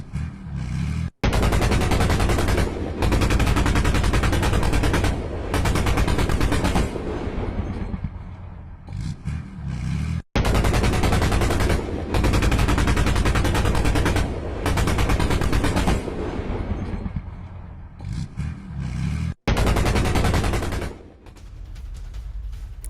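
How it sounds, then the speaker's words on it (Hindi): Loud, sustained automatic gunfire from a Ukrainian BMP-2 infantry fighting vehicle, long rapid bursts broken by brief pauses, with no voices over it. "यूक्रेनी BMP-2 से ताबड़तोड़ फायरिंग हुई है।"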